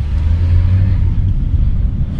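Engine and road rumble come from inside an old VW Polo barn-find car fitted with a new tank and carburettor as it drives along. The low drone is loud and steady, with no talking.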